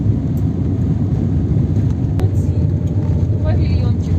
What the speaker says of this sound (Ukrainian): Бачиш, що встрічна машина їде